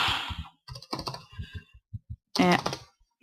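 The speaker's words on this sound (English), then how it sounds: "Oh, I'm just terrible at typing." Typing on a computer keyboard, with quick bursts of close, crisp key clicks separated by short pauses and ending in a brief louder flurry.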